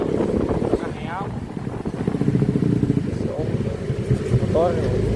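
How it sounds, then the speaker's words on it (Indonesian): A motorcycle engine rumbles close by, steady and loud, with wind buffeting and people talking over it. "Motor."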